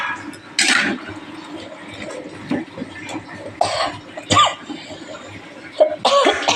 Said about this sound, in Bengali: ওই জন্য কাশি হচ্ছে।